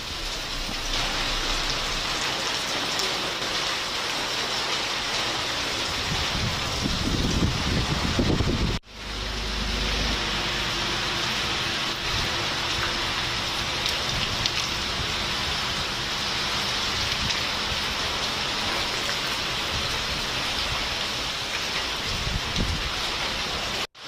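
Heavy rain from Cyclone Fengal in Tirupati district: a dense, continuous downpour on surfaces, loud and steady for the whole stretch, with a brief break partway through and no voices.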